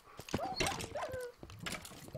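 Tamed wolves in the Minecraft video game whimper and yip in a few short, high, wavering cries that sit close and fairly loud.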